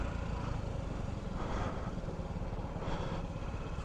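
A Honda Ruckus scooter engine, kickstarted and running poorly, idles steadily with a fast, even putter, moderately close and fairly quiet, with no voices.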